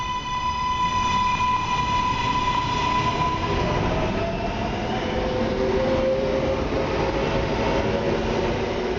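Subway train running in OMSI 2, a steady loud rumble and rail roar throughout with sustained tonal whines rising and shifting, continuous and close, no talk.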